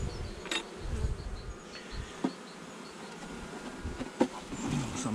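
Honeybees buzz around an opened hive during an early spring colony inspection in March, a dense continuous hum close by with individual bees zipping past the mic and occasional handling knocks.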